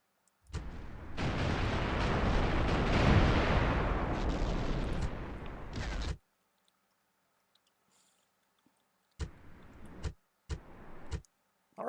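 Siege engines firing in a Rome: Total War battle, a dense, loud barrage of launching and impact booms that roars for about five seconds, falls silent, then returns as a few shorter bursts.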